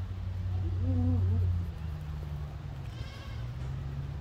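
Goats bleat at a zoo, a short wavering cry close by over a low steady background hum, then a fainter call in the distance.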